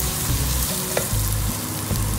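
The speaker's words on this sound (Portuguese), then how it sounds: "Coloquei nosso arrozinho aqui para ir refogando." Rice sizzles and fries in a pan that previously cooked bacon and calabresa sausage, a loud continuous crackle with scraping stirs and a few clinks of a utensil, close up and without talk.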